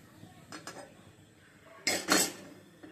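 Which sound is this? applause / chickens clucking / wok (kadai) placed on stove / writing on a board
wok (kadai) placed on stove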